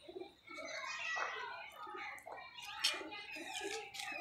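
Pigeons perched in a rooftop loft give soft, low, murmuring coos that repeat close by in a quiet, continuous rhythm.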